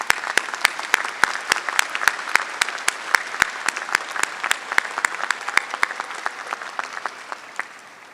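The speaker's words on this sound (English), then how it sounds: "Let's give them a rousing round of applause to show how much you appreciate them." Sustained applause from a commencement audience at a law school ceremony, a steady patter of many hands with sharp individual claps standing out, gradually fading toward the end.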